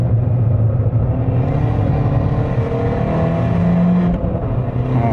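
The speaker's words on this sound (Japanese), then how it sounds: "加速はするんですけどもすぐ回転がリミットに達してしまいますので" A turbocharged Abarth 500 engine runs loud and steady from inside the car, accelerating with a sustained droning rumble as the revs climb quickly toward the limit, with no one talking.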